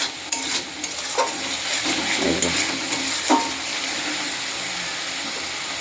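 Spice paste fries in oil that has begun to separate, a steady close sizzle broken by a few scraping stirs and clinks of a spoon against the pan.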